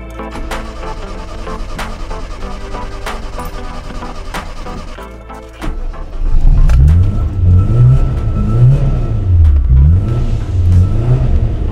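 A boat engine revs up after a quieter stretch of clicks and tapping, its pitch rising and falling in loud, close surges as more fuel is fed, holding strong to the end with no talking.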